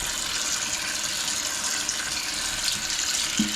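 Running tap water pouring steadily over a squid mantle being rinsed clean, a close continuous gushing splash with faint handling noises.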